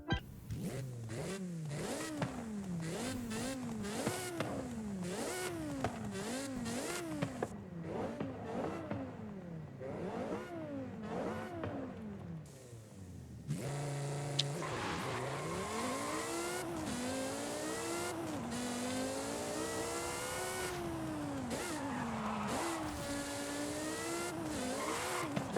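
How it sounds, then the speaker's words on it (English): A Porsche Carrera GT's V10 engine revs hard in the Forza Horizon 5 game, rising and falling through repeated sharp climbs and gear changes, then settling into a sustained high-pitched wail, loud and close with no talking. "So yeah, another absolutely beautiful sounding V10 in the Porsche Carrera GT."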